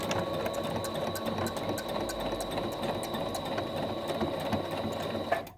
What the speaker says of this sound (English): So we're going to sew all the way around the outside here.